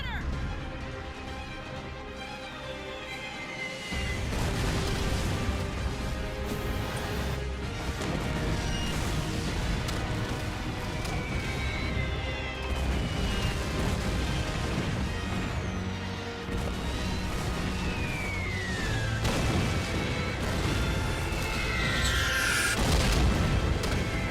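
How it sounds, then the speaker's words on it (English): Missile strike explosions in Halo machinima, a continuous roar of booming blasts and crashing impacts rolling on for over twenty seconds, dense and loud throughout. "They launched a missile strike on their own compound to try and kill them."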